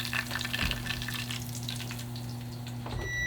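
Pork belly frying in a pan gives a steady, close sizzle with crackling pops and a low hum underneath, and no one speaks.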